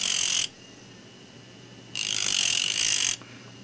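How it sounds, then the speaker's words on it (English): A stone-setting bur is sharpened by grinding its metal teeth one at a time. Two separate bursts of high, gritty grinding come close up, the first short and the second longer, with a quiet pause between them. "Yes, what you're doing is grinding on the metal"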